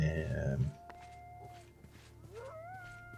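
A dog in the video game TerraFirmaCraft gives drawn-out, wavering howls that rise and bend in pitch, fairly faint and with gaps between them, following a short burst of louder noise at the start.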